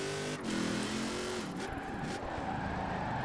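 Jeep Gladiator pickup on off-road tires driven in Forza Horizon 4, its engine droning steadily with a brief shift or lift near the middle, then a sustained rough rumble, close and continuous without talk.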